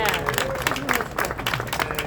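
Audience in Santa Ana applauding Gustavo Arellano, a burst of clapping from a crowd mixed with talk and murmuring voices over the top, short and fairly loud.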